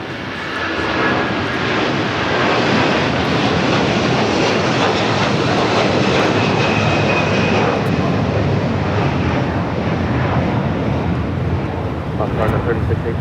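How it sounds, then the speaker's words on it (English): A cargo jet takes off from runway 25 left at Los Angeles International Airport in a 14-knot wind, its engine roar loud, broad and steady from start to finish with no voices over it. "Going to be taking off. Rolling down to 25 left."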